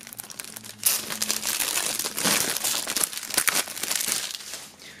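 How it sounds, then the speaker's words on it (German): Plastic shrink-wrap foil being torn and peeled off a boxed music album, a loud continuous close crinkling and crackling with sharp rustling bursts, no voices. "nachdem hier das Album noch eingeschweißt ist, werden wir das Ganze mal aus der Folie holen."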